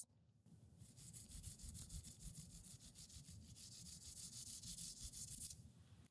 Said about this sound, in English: this is what it sounds like when I pet the Barocco locks